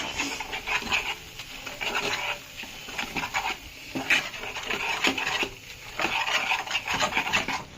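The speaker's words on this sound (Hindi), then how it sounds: "हम अब बेसन भून रहे हैं।" Besan for laddu is roasted in a pan, giving repeated close, dry scraping and rubbing strokes from a spatula in an irregular rhythm, fairly quiet, with no voices.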